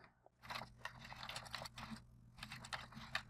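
Rapid keystrokes on a computer keyboard while an email is written, coming in quick irregular bursts with short pauses, close and fairly quiet over a low steady hum.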